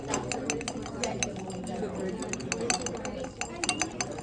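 A solidifying sample is stirred in a glass container during a lab exercise: light, irregular clinks and taps of glass sound close by beneath steady talking.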